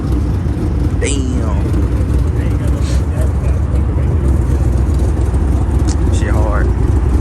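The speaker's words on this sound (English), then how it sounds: "we got this beautiful Mustang right here. This joint sounds insane." A cammed Ford Mustang muscle car idling loudly at a late-night car meet, a constant deep rumbling drone, with brief speech from a nearby person.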